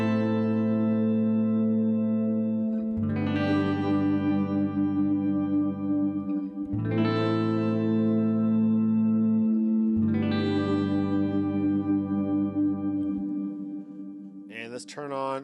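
Guitar played through a Headrush pitch shifter set one octave up, with sustained harmonic-rich notes struck in three long phrases, processed and effected, loud and close with no talking.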